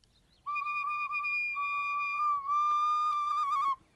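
A shrill whistle is blown in one long, steady blast with a short break partway through, loud and close, with no voices.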